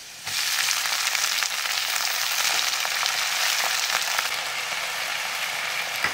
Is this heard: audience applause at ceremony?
no